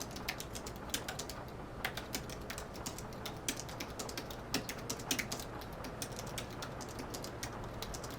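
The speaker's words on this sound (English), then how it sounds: "the keys, very nice, clicky. They use a normal scissor switch" Clicky scissor-switch keys of an Apple Magic Keyboard with Touch ID tap in a quick, irregular typing rhythm, soft and close, with a few sharper keystrokes standing out.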